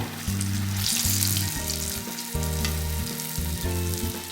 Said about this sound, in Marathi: जेणेकरून दोन्ही बाजूनी व्यवस्थित तळले जातील वडे